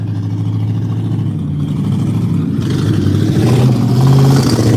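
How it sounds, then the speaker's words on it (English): A loud pickup truck engine revs and rumbles steadily outside a training center in the early morning, growing louder toward the end as it passes close by. "A loud pickup truck"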